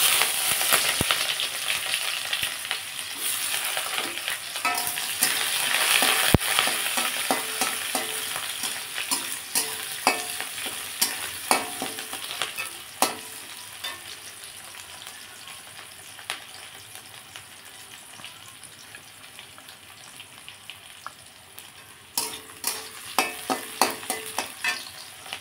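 Onions frying in hot refined oil, tempered with cumin, bay leaf and dried red chilli, with steady loud sizzling and repeated scraping stirs over about 25 seconds. There is no talk.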